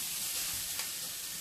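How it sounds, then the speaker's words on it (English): Vegetables sauteing in a pan during a gluten-free crepe wrap cooking class, a steady close sizzle with a faint clink partway through and no talking. "You guys go ahead and continue sauteing whatever you're doing."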